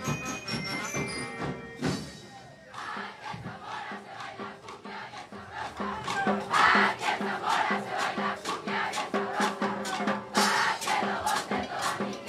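Crowd at a school band parade for the 70th anniversary of Zamora Chinchipe province, loud cheering and clapping rising and falling over several seconds, with steady tones from the band sounding underneath.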